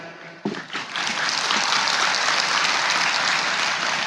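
After a brief quiet moment, a crowd at an Islamic religious lecture breaks into sustained applause, a full, even roar of clapping that continues to the end.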